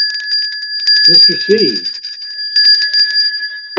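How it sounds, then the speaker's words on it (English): A bell rings during a weather show, a steady ringing tone that carries on under a man's short bit of speech and through the whole stretch. "And one bell ring for"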